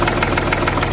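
A freshly started engine idles steadily, a dense, even mechanical chugging with a regular pulsing knock, close and continuous through the brief moment.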